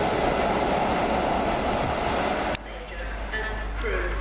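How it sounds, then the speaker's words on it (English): Class 43 HST passenger train running on the Midland Main Line, a loud steady rumble of engine and rolling wheels with a sharp click midway. After the click the noise drops to a quieter interior hum. "this train is formed of 4 coaches. Only 4."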